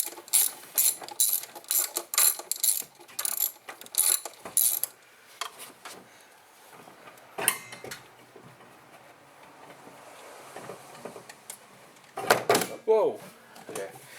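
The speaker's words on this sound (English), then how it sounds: "just reach in there with the ratchet" A hand ratchet works on bolts of the EGR system on a Ford F150, with quick bursts of clicking in close succession at first and then sporadic clicks later, close up and under occasional talk.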